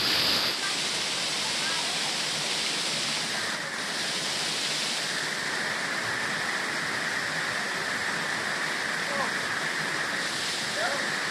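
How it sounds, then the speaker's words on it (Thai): Tad Wiman Thip waterfall in Thailand pours steadily with a dense, continuous rushing hiss that stays loud and even throughout, close by. "น้ำตกตาดิมานทิพย์ก็มาแล้ว"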